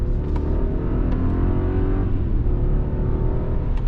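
A 2021 Mercedes-Maybach GLS600 with a 4-liter V8 and nine-speed gearbox accelerating, a muted, well-isolated engine drone heard from inside the cabin, steady and continuous without talk.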